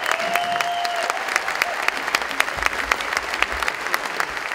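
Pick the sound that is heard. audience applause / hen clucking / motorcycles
audience applause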